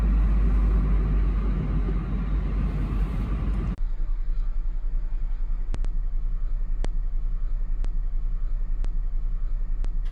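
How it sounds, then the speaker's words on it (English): Car being driven on a road in Greece, a low steady engine and road rumble heard from inside the cabin, with a change in tone partway through and a few faint clicks over the continuous hum. "I'm officially driving our car in Greece."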